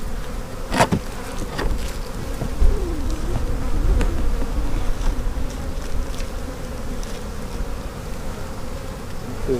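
Honeybees buzz steadily around an opened hive during an inspection, a dense close hum with individual bees whining past and occasional knocks of handling, no talk.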